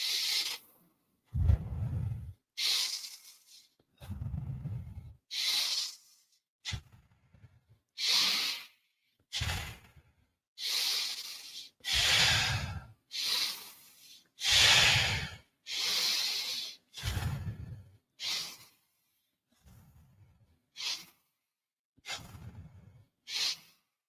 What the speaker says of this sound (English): Okay, exhaling and deep rapid breathing.